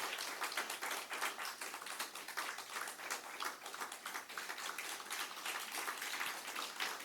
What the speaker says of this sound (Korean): 박수로 우리 환영하도록 하겠습니다.